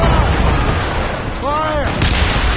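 Ship cannons firing a broadside in Assassin's Creed Rogue, heavy booming blasts in quick succession with rumbling tails, while a voice shouts over the gunfire.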